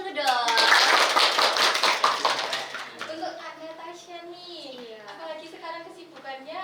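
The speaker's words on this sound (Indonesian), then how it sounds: "Tepuk tangannya dulu dong." Short burst of audience clapping at a talk show, loud at first and then fading as voices take over and people talk over the tail end.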